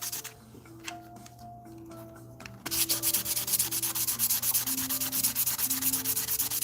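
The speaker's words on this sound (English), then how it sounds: "with a bit of water and rubbing, we can get a lot of these other scratches out of this" Wet rubbing on a finished wooden piece to take out scratches, a steady rhythmic scrubbing that begins softly and turns louder and continuous partway through, with no talking.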